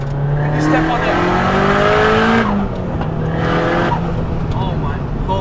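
A 450 hp big-turbo SR20 engine in a Nissan S15 Silvia revs hard and climbs in pitch through the gears, loud and close, with a brief drop between shifts.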